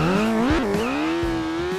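A motorbike engine in the video game Turbo Dismount roars loudly and continuously, its pitch sliding and wavering as it revs.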